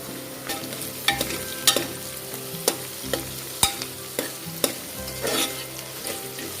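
Onions and green chillies sautéing in a pan, with a steady sizzle and frequent sharp scrapes and clinks of a spatula stirring against the metal, close and without talk.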